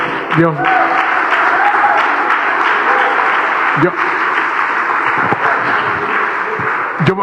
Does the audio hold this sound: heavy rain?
no